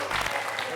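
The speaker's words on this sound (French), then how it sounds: "On peut applaudir Michel qui a superbement joué" A brief burst of studio audience applause on a French television quiz show, heard under a presenter's speaking voice.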